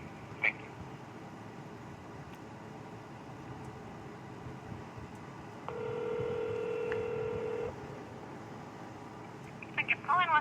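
A telephone line on hold gives a steady two-tone ring-like signal that lasts about two seconds over a constant low hiss, with faint clicks at the start and end.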